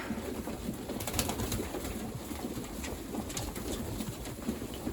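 Pigeons in a winter loft coo in a dense, continuous murmur, with many birds' low calls overlapping steadily throughout amid wing shuffles and background rustling.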